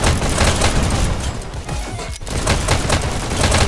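Dense, continuous gunfire from a VR shooter game in Hyperdash, a steady loud barrage of shots and booms with no clear gaps, layered over a busy game soundscape.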